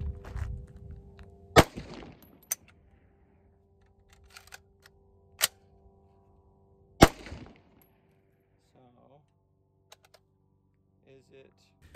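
A 6.5 Grendel bullpup rifle build with a feeding malfunction fires a few sharp, widely spaced shots, each a loud crack with a short decay, between quiet handling clicks and faint rustling.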